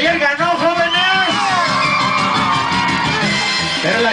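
A party crowd at a DJ dance event cheers, whoops and shouts loudly and continuously, with a voice calling out over the din.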